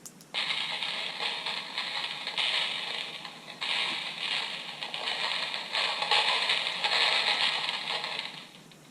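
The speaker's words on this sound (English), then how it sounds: "This is rattling chains." Rattling chains from a Spirit Halloween haunted sound effects box, a continuous bright clanking and scraping that swells in several waves for about eight seconds, loud with no talking.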